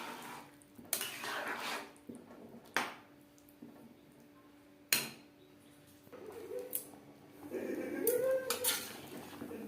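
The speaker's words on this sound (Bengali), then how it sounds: "মাঝে মধ্যে এভাবে নাড়াচাড়া করে দিতে হবে না হলে তলা লেগে যাওয়ার সম্ভাবনা থাকতে পারে" A spoon stirs vegetable khichuri in a cooking pot, giving several sharp metallic knocks and scrapes spread through the clip, close and fairly quiet, with a soft bubbling simmer toward the end and no talking.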